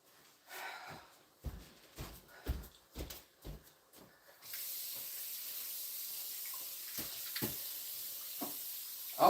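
A cast iron pan rinsed under a running tap: several soft knocks and handling bumps first, then a steady hiss of flowing water for the remaining seconds with occasional clunks of the pan, fairly quiet and close.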